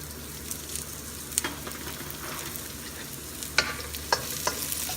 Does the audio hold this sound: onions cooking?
yes